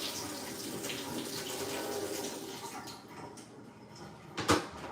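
Running tap water rinsing spinach and fruit at a kitchen sink, a steady broadband splash that thins out midway, ending with a brief louder burst of water or clatter.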